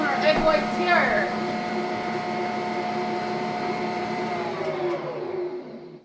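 An electric mixer whips egg whites in a bowl, a steady loud whirring hum with a rattling start that holds evenly for several seconds before winding down at the end.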